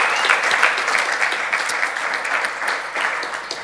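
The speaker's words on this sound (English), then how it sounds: "I think you deserve some more applause for that" Audience applause at a DevFest Switzerland 2018 tech conference talk, a dense, steady wash of many hands clapping that holds loud and even throughout without speech.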